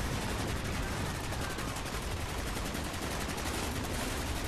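Dense, continuous automatic gunfire from a Call of Duty: Black Ops battle, a .50 caliber machine gun among it, rattling steadily and loudly without pause across the whole stretch.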